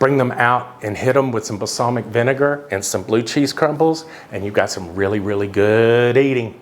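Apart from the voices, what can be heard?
No everyday noise stands out behind the speech.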